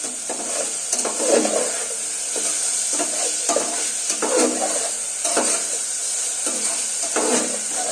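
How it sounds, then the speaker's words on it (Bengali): Green chili and coriander leaves go into a pan of spices, frying with a steady soft sizzle while a spatula stirs and scrapes in repeated strokes, close and fairly loud, no talking. "এটাকে একটু একসাথে সব কিছু মিশিয়ে ভালো করে ভেজে নেব"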